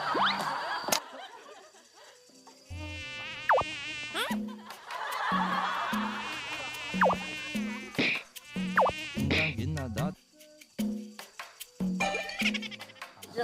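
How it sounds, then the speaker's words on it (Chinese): Mosquito buzzing in a high, thin whine that rises and falls in repeated bursts close to the ear, with sudden gaps between passes; sounds like a voice or mixed effect rather than plain room noise. "超模有蚊子呀，打呀打蚊子"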